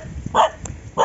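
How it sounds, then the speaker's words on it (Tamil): A dog barks at a passing cyclist on a village road on Mandaitivu island near Jaffna, two sharp close barks with a short pause between them, with faint voices in the background. "நீ பொம்பளை பிள்ளை, அதான் என்ன பார்த்து குலைக்கிறா?"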